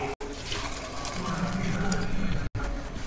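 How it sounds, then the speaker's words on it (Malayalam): Water drains off boiled mushrooms in a kitchen, a steady close splashing pour lasting a few seconds with two brief cuts. "ഇതൊന്ന് വെള്ളത്തിൽ നിന്ന് ഊറ്റിയെടുക്കാം"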